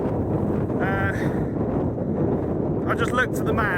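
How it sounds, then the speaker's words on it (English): Heavy wind buffets the microphone with a constant low roar while someone talks over it. "So it's incredibly windy."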